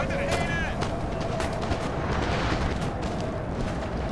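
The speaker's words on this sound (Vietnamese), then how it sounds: "chúng nó bắn tạt sườn này" Musket gunfire from the flank in the Napoleon Total War video game, a steady crackling rumble of many shots blending into battle noise, loud and constant, with a voice speaking over it.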